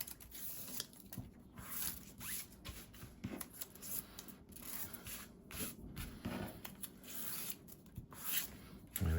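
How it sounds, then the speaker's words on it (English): Backing tapes are peeled off a handmade fairy card in a string of soft, close ripping and rustling sounds, fairly quiet, with small paper handling noises in between. "And then we just pull the tapes off."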